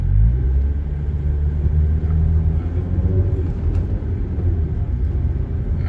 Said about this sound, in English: Oh, that damn truck.